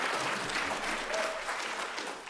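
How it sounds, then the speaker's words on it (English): A crowd gives a politician a brief burst of applause: steady, dense clapping at moderate volume with no break. "give her a round of applause"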